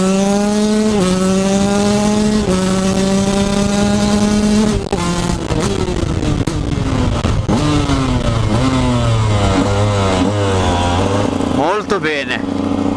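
A Husqvarna TE 125 motorcycle accelerates hard, its engine note climbing through several loud rising gear pulls, cut by brief shift dips, with the revs falling away near the end.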